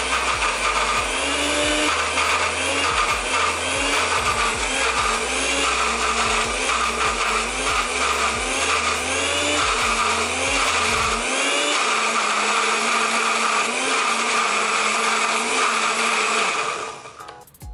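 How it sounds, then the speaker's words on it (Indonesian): An electric blender grinds a spice paste for a basic seasoning base, a loud continuous whirring motor with wavering pitch as the load shifts, running steadily for a long stretch before winding down and cutting off at the end. "Ini sengaja aku blendernya nggak terlalu banyak"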